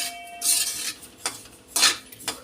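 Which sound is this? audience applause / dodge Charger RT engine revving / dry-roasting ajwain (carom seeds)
dry-roasting ajwain (carom seeds)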